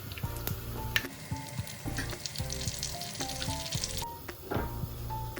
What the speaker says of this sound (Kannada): ಕಾದ್ಮೇಲೆ ಒಂದ್ ಸ್ವಲ್ಪ ಸಾಸಿವೆ, ಜೀರಿಗೆ ಹಾಕೊಳ್ಳಿ.